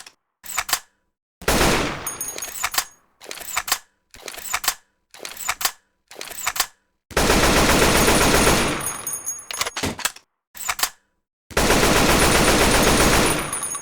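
Bursts of AK-47 rifle fire ring out in real life, loud and close, with short rapid strings and single shots alternating with silent gaps, followed by two longer sustained automatic bursts.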